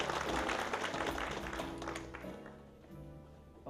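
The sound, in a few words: audience applause at a ceremony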